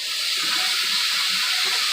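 Water poured into a hot pan of browning rice, giving a loud, steady hissing rush that holds evenly from start to finish with no pauses.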